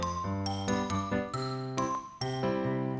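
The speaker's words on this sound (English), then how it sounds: "we've got the marimba, just a regular hits, and also the xylophone" Bright wooden mallet notes from marimba and xylophone struck together in a simple melodic pattern, ringing tones with quick decays, clear and close.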